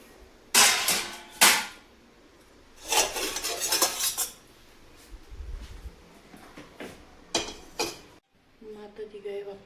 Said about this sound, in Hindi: जो बर्तन साफ किए थे इनको लगा देते हैं जगह पे